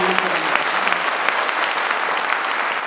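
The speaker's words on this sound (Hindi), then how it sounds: "ताली जोरदार वाली बजाइए" Loud, dense applause fills a meeting hall as an audience claps vigorously and steadily throughout, with a brief low voice murmur at the start.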